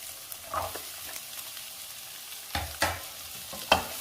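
Onion, carrot and bitter gourd sautéing in a little leftover oil in a pan, with a soft steady sizzle and a few louder scraping stirs near the end.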